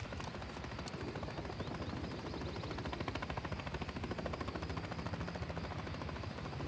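A helicopter in Call of Duty Modern Warfare 3 chops steadily and loudly throughout, its rotor beating in a fast even rhythm under a broad rushing engine noise.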